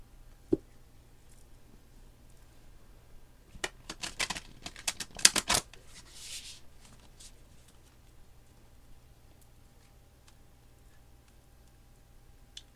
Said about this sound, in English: And one more good shuffle.